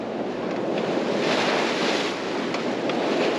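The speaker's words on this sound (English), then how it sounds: "Pretty calm seas, little 2 to 3 foot waves." Small two-to-three-foot sea waves wash steadily around a sailboat making about 6.5 knots in 15 knots of wind on the way to Cat Island, a loud, continuous rush of surf with wind buffeting the microphone.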